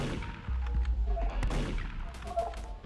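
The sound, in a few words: gunshots in a video game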